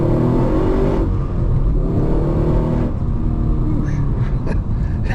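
A Holden HSV GTS with a supercharged 6.2 V8 accelerates on the Bwlch Mountain road, its engine roaring loud and close from inside the cabin, with rising pitch through the gears and a brief dip at a shift.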